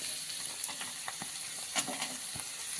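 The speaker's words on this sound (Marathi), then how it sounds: "गाजर छान परतून घ्यायचं" Carrots, capsicum and onion sautéing in a pan for paneer bhurji give a steady close sizzle with scattered scraping stirs and light clicks of a spatula throughout, no voices.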